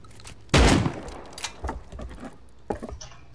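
A pipe shotgun firing during a Rust raid: one loud close blast followed by scattered smaller shots and clatter, with a second sharper report later and quieter gaps between.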